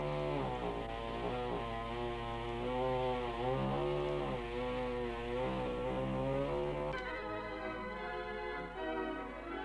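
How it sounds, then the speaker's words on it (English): Chainsaw cutting out sections of a theatre auditorium floor above a concrete slab, a steady loud engine whine that rises and falls in pitch as the blade bites, continuous for about ten seconds with no talk. "The most practical method of removing floor sections was with the use of a chainsaw."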